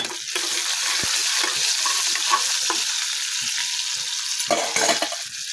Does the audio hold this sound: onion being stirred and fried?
yes